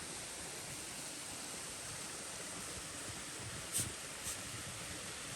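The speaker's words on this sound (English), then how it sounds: "There's a waterfall. Look at that." Steady broadband rush of a small waterfall in the North Carolina mountains, constant and moderately loud with no talking over it, plus a couple of faint brief bumps near the end.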